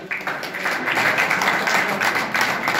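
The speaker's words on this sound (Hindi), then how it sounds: "ताली बजाते रहिए भैया" An audience applauds at a Bhim Army meeting in Abu Road honouring party workers, a continuous loud wash of many hands clapping with no pause throughout.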